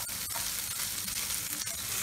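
Chicken sizzles in butter in a hot pan while homemade tavuk döner cooks, a steady broadband frying hiss with small crackling pops running continuously throughout.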